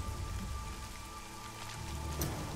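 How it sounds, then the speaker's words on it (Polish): Steady rain pours down in The Witcher video game, a dense, even wash of patter that holds at one level throughout with no voices, and a faint thin tone lingers underneath. "Zatem ruszajmy, bo pada coraz bardziej"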